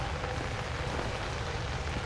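Rain falls during a dark, stormy night in the video game Outlast, a steady, full hiss of rainfall that stays constant and close for the whole stretch with no voices.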